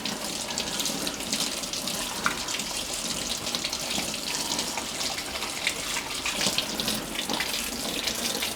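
Steady cold water running from a tap splashes continuously into a sink, close and fairly loud, with no voices.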